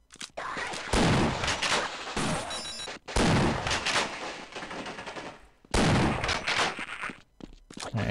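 Gunfire roars in Half-Life, long loud bursts of rapid shots in three heavy stretches separated by brief pauses, close and dense, with a few trailing shots at the end.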